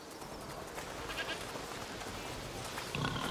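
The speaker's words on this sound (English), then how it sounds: "What's over there? Goats!" Goats bleat a few times in the video game A Plague Tale: Requiem, over a steady noisy background, the calls fairly faint and short.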